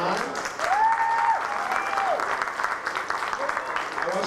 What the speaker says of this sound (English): round of applause, ladies and gentlemen, is Tanisha.